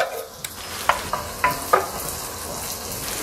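Chopped tomatoes frying with already browned onion and garlic in a pan, a steady sizzle punctuated by several sharp scraping stirs, close and clear, no speech.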